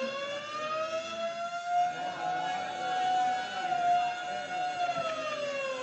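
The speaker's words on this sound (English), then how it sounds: "suddenly the quiet routine of the prison is broken by frantic bells and the shrieking wail of the siren" A prison siren's loud, continuous shrieking wail slowly rises and falls in a radio drama, sustained throughout with no voices; separate alarm bells are not clearly distinct.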